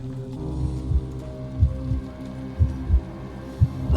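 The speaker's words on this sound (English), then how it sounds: "A heartbeat." Heartbeat sound effect in a Call of Cthulhu tabletop horror session: slow, muffled low thumps in paired beats, repeating steadily about once a second over a faint droning ambience.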